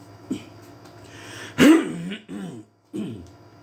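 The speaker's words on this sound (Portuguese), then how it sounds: "esse pigarro de manhã é terrível" A man clears his throat roughly in a quiet indoor room, with a brief hoarse rasp followed by a few short guttural grunts and pauses, heard alone without speech.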